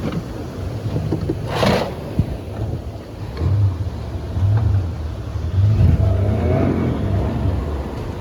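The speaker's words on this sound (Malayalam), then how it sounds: "നമ്മളെ ട്രാക്ടർ വണ്ടി വന്നിട്ടുണ്ട്" A tractor's engine rumbles low and rises in bursts of revving on a beach as it pulls a boat ashore, with wind buffeting and surf in the background.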